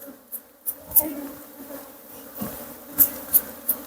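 Wild cavity-nesting honey bees hum softly at an opened hive box full of honey, with several sharp close buzzes as individual bees fly past.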